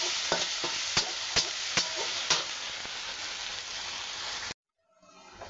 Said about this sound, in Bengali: আদা রসুনটা ভাজা ভাজা করলাম